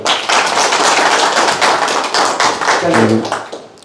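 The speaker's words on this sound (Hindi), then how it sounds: "जोरदार तालियां" A seminar audience at a sales orientation session gives a loud round of clapping for a speaker's introduction, dense and close throughout before a voice begins near the end.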